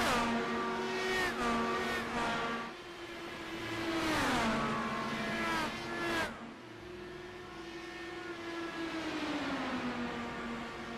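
Loud IndyCar race engines from the iRacing sim at Phoenix, harmonic whine rising and falling as cars battle for the lead, several passes sweeping by, with a sharp dip around the middle before the roar resumes.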